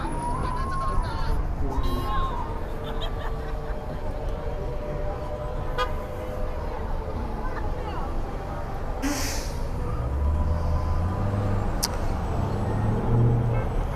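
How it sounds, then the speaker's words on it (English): Car horns honk repeatedly over steady street traffic at a vigil protest in Kansas City, Missouri, with a crowd murmuring and people talking in the background. "you can hear the cars honking in support of the people holding their signs"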